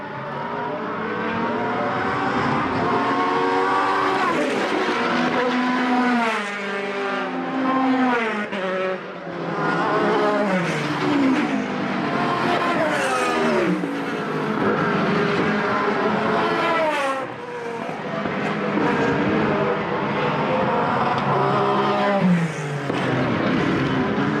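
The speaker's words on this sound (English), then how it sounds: "These cars sound fantastic on the straight." Formula BOSS race cars roar along a straight at a circuit in Ireland, engines loud and sustained as they rev up and shift through gears, several cars passing close in succession with no talk.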